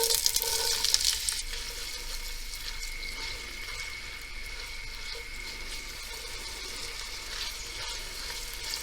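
Onions and peppers sautéing in a cup of vegetable oil in a pot on the stove, a steady soft sizzle with a brief louder stirring burst at the start, no voices.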